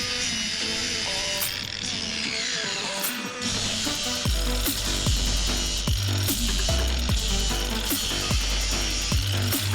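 An angle grinder working down weld holes in the metal engine bay of an S2000 chassis, a steady loud whine and rasp with repeated sharp bumps as the disc meets the metal.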